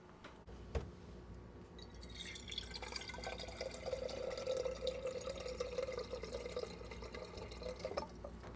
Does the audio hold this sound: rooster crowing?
no